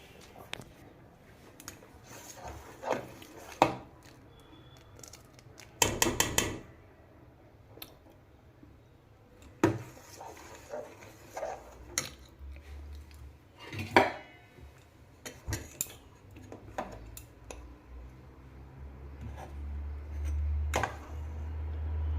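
Jaggery being added to boiled rice in a cooking pot, heard as scattered clinks and knocks of a utensil against the pot with one brief rattling burst, close and moderately loud, with no voices.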